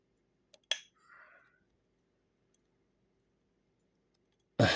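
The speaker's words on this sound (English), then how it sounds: "Aha! That was the key pins falling down," Faint, sparse clicks from key pins dropping inside a lock during picking, with one sharper click near the start, a soft rattle after it, and a louder knock at the very end.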